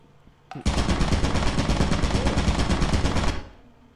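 A turret in the video game Lethal Company opens fire with a loud, continuous rapid-fire burst of shots that starts abruptly and runs for nearly three seconds before cutting off.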